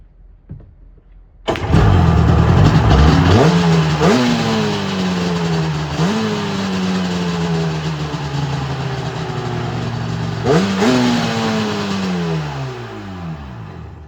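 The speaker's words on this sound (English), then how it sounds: "This makes it easier for the engine to catch on the first few cranks." A 1995 Sea-Doo XP's rebuilt Rotax 717 two-stroke engine cranks briefly, then catches and runs loudly and steadily, with several sharp throttle blips rising and falling over the constant close-up drone.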